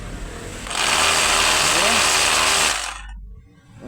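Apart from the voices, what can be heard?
motor winding of Black & Decker sander running after being plugged in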